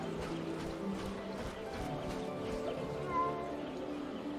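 A cat meows within the fantasy role-playing game Drakensang, the calls rising briefly over a steady bed of game ambience and background murmur.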